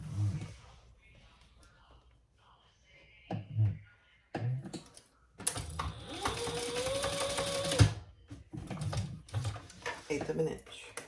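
A sewing machine bastes fabric pieces in place on a crossbody bag, with one long steady run of stitching between shorter starts and stops and some low talk around it.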